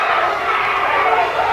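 A rugby league crowd at the California Rugby League 2021 World Championship Final cheers in a loud, steady roar that fills the whole moment, with a commentator talking over it.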